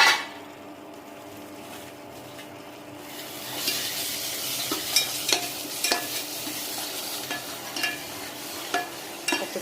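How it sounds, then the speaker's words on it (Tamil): Spinach greens sautéing with salt in a pan, a quiet sizzle under repeated scraping and stirring strokes that start after a short pause and keep coming in an uneven rhythm, close by. "உப்பு சேர்த்து கொஞ்சம் நல்லா வதக்கி எடுங்க"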